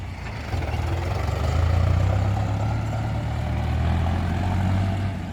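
A tractor engine runs steadily with a low, rumbling drone that swells slightly and holds, loud and close, with no talk over it.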